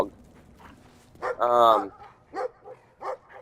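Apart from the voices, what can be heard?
dog in the video game Brothers: A Tale of Two Sons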